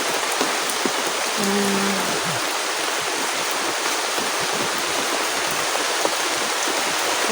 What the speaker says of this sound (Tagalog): malakas pa rin yung ulan dito, kaya pagpasilong muna ako. Dito sa may dahon ng saging